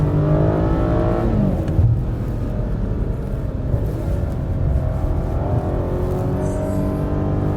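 A 2021 BMW M8 Competition Gran Coupe engine revs hard, then drops through quick, aggressive downshifts under braking, a loud, close, deep rumble that rises and falls in pitch without any talking.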